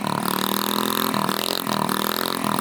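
A TaoTao scooter engine runs steadily and loudly up close during a wheelie attempt, with a continuous buzzing drone that dips and rises slightly as the throttle changes.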